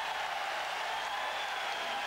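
A French crowd applauds at a 1996 indoor motorcycle trial event in Toulouse, a steady, even roar of clapping that sounds somewhat distant and fills the whole moment without any voices.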